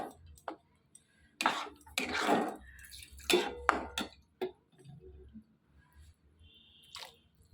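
Water splashes and swishes inside a mixer jar in short bursts, with light clinks of the jar and a few drips between them, close and fairly quiet.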